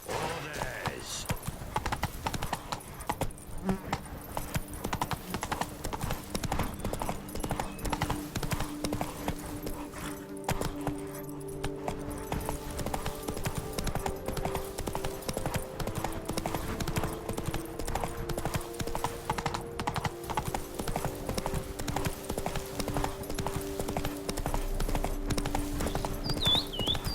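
The horse Roach's hooves in The Witcher 3 make a steady, rhythmic clip-clop throughout, fairly close, under game dialogue and background music, with an occasional snort.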